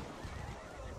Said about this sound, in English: Guy on the horse running towards me.